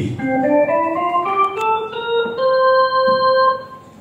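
A clear melodic line of sustained tones stepping through a modal scale with a flattened seventh, played alone without any talking.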